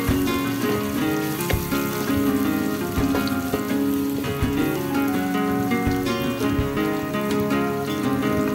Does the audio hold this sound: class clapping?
no